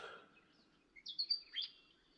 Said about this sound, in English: Birds are awake at 6 o'clock.